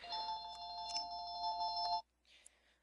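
A telephone rings with a steady electronic ringtone for about two seconds and then stops abruptly, leaving near silence.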